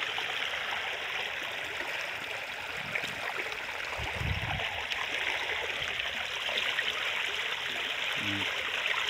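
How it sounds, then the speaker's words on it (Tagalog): Water rushes steadily through the gate of a crab pond, a continuous broadband flow like a stream that stays loud and close for the whole stretch, with a brief low thump partway through and no talking. "yan po, pumapasok yung tubig."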